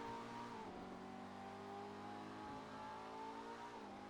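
An Emperor ETR1 in GTA Online, a rear-wheel-drive car, idling with a steady, low engine drone that holds even and fairly quiet throughout, with slight pitch wavers.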